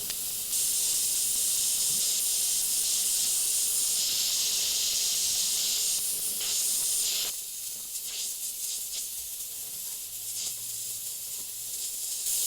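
Steady airbrush hiss of paint spraying in bursts while an evil clown face is detailed over green flames, loud and continuous at first, then breaking into shorter, quieter sprays.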